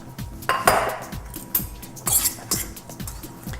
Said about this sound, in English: So I first mix it up with a fork.